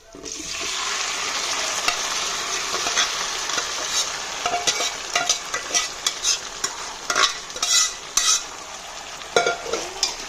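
Beef frying with curry leaves for a coconut beef roast, a loud continuous sizzle under repeated close stirring scrapes that grow busier and more clattery toward the end.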